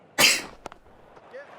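A single sharp, close sneeze bursts out, followed by a few faint clicks and small throat noises, heard during a cricket commentary.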